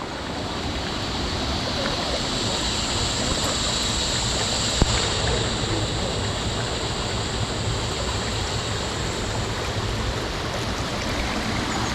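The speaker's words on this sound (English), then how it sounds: "That's up the creek." A creek flows steadily along a hiking route to a popular swimming hole, a continuous broadband rush of water with one brief click near the middle and no voices.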